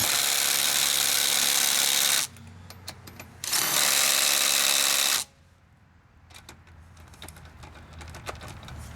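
A Ridgid subcompact brushless impact driver tightens lug nuts in two loud, rapid hammering bursts of about two seconds each, separated by a pause and followed by quieter socket clinks and handling noises.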